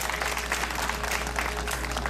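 Crowd at a Toribiong-Mariur political rally in Yigo, Guam claps in a dense, continuous wash of applause, loud and close, with a low hum underneath.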